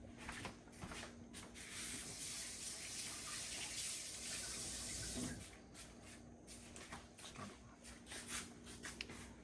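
Tap water runs in a steady, fairly close hiss for about five seconds as a hand is wetted before handling wet sourdough bread dough, then cuts off, leaving faint handling sounds.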